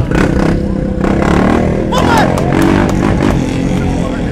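A motorcycle engine revs loudly at a bikers' festival in Mali, heard as a close, sustained roar rising in pitch, with crowd chatter and clattering around it.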